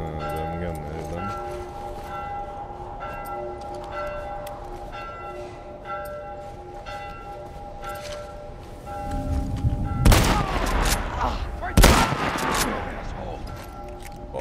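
Gunfire in the video game The Last of Us: two loud, sharp blasts crack out near the end, over tonal in-game music and ambience, with talk heard earlier.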